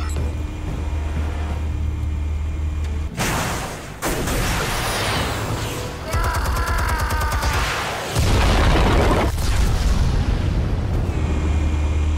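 Explosives detonating in Batman: The Telltale Series, with loud, sustained booming blasts and rumbling debris filling the scene, several heavy surges following one another over a steady roar.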